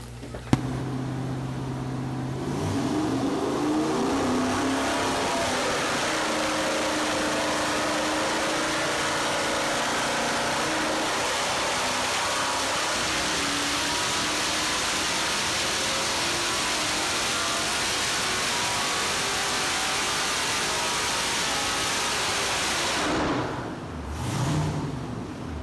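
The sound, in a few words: 6.2 liter L92 LS engine with Summit Stage 4 Pro cam on dyno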